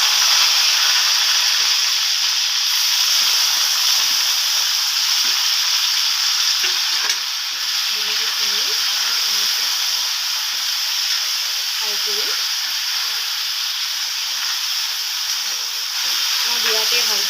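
Tomatoes sizzling in hot oil in a pan for a fish curry, a loud steady frying hiss that continues throughout with faint stirring and bubbling beneath.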